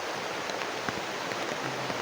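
Heavy rain pours down steadily outdoors as a dense, even hiss with no gaps, loud and close and with no voices.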